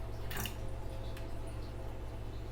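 A handheld sprayer mists water over the leaves of an African mask plant indoors, a brief hissing burst near the start followed by a faint later spritz, then quiet.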